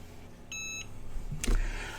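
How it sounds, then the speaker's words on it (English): A Cricut EasyPress heat press sounds a single electronic timer beep, a steady tone lasting about a third of a second, followed by faint handling noises nearby. "So set our easy press down on it. And start the timer."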